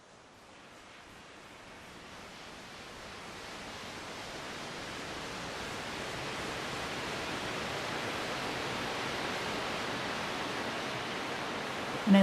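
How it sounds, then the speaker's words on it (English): A Space Swarm reverb texture from the Sol stellar effects engine, a dense wash of noise that swells gradually and sustains like a distant waterfall, with a slow decay and no voices. "And I like how that has a slow decay and almost sounds like a waterfall."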